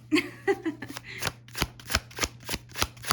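A Dungeons and Dragons tarot deck is shuffled close up, a quick run of crisp riffles and card taps in a steady rhythm, heard alone.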